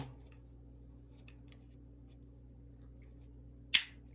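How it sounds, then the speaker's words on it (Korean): A replacement bezel housing on a Galaxy S10e phone snaps into place with a single sharp, close click near the end, after a quiet stretch of faint background hum. "딱 소리가 나게끔 꽂아주면 되고"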